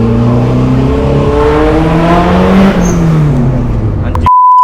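A 1992 Daihatsu Zebra Turbo S89 accelerates hard at high speed, its engine droning loud and steady with rising gear whine and wind roar, then cutting abruptly to a short beep.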